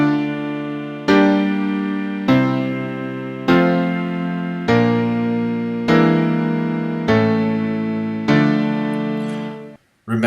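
A sustained organ-like chord progression, each chord held about a second before the next, moving through secondary dominant seventh harmonies in a minor key.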